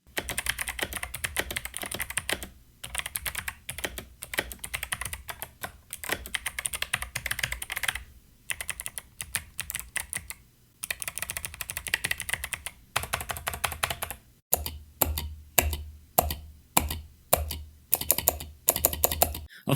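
Clicky keystrokes on an 8Bitdo Retro mechanical keyboard with hot-swappable 5-pin switches, typed close up in rapid bursts separated by brief pauses, with no talking.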